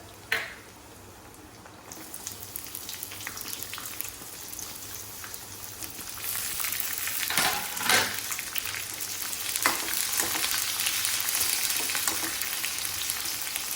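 Onions frying in oil in a pan for a dosa chutney, a steady close sizzle with crackling that swells louder midway and keeps hissing, with occasional stirring scrapes.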